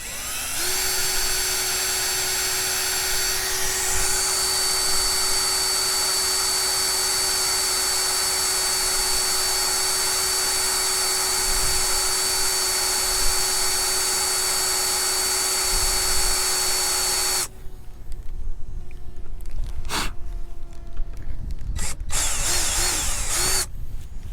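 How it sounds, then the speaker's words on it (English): A power drill whines steadily and loudly on a boat for a long stretch, then cuts off, leaving quieter knocks and brief tool bursts. "Then I take this drill, and then I drill."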